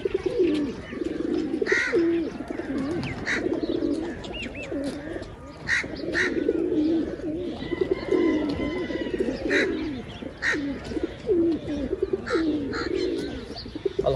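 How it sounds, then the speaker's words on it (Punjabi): Pigeons coo steadily in a loft, a continuous chorus of low throaty coos with occasional chirps from other birds, fairly close and with no talking. "ਬਿਲਕੁਲ ਐਕਟਿਵ ਨੇ ਸਾਰੇ ਕਬੂਤਰ"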